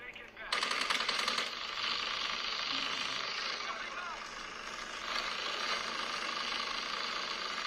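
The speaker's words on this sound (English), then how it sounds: "This guy's going nuts with the machine gun." Rapid machine-gun fire from a mobile video game played on a vivo X200 Pro mini runs almost without a break, dense and steady, with a brief dip in the middle before the volley picks up again.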